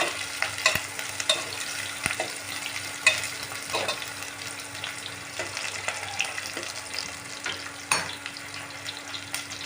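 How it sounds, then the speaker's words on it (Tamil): Onions and green chilies frying in a pan for coconut rice, a soft, fairly quiet sizzle with occasional stirring scrapes and light clinks, close by with no talk. "ஆனியன் நல்லா ஃப்ரை ஆகிட்டோம் நம்ம பச்சை மிளகா போட்டுக்கலாம்"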